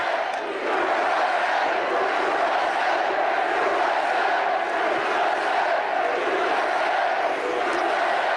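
A big crowd at a political rally in Greensboro, North Carolina cheers and roars continuously, a loud, sustained wall of voices that stays dense and steady throughout.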